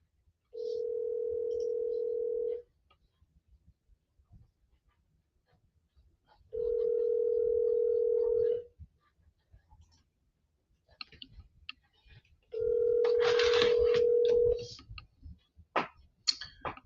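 An outgoing phone call's ringback tone sounds three times, each a steady two-second tone separated by silence, followed by faint clicks and handling noise.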